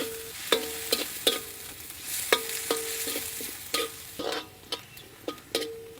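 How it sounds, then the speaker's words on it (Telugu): Chopped onions and dried red chillies frying in a pan, with a steady close sizzle broken by frequent sharp clinks and scrapes of a spatula stirring at an uneven rhythm. "కోసి పెట్టుకున్న ఉల్లిపాయ ముక్కలు వేసేసుకుందాం"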